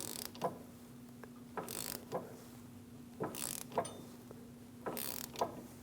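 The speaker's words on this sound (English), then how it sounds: "Using a caliper pushback tool, we're going to push the caliper back." A caliper pushback tool forces back a rear brake caliper piston on a 2016-2025 Chevrolet Malibu, giving soft mechanical creaks and clicks in several short bursts over a steady background hum, with no talking.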